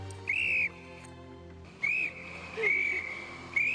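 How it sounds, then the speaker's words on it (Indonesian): Several shrill blasts from a passenger's whistle, short and piercing, sounding in bursts with pauses between them over a low background hum. "dia berenang mengambil peluit penumpang yang meninggal dan meniupnya untuk menarik"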